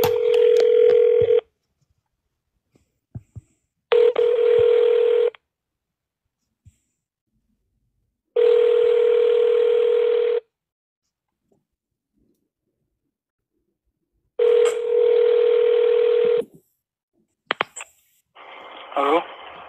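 Telephone ringback tones for a prank call repeat in long steady bursts with silent gaps between them, clear and close, followed by a brief higher chirp near the end.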